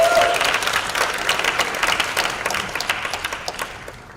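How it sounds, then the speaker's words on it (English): An audience at a youth cultural forum applauds to welcome a speaker, a dense round of clapping that thins into scattered individual claps and fades out toward the end. "Please give her a round of applause."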